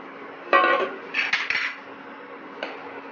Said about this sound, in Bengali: এবার এর মধ্যে আমি আস্তে করে ডালটা ঢেলে দেব।